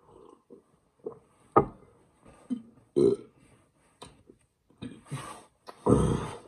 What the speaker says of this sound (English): Burps again.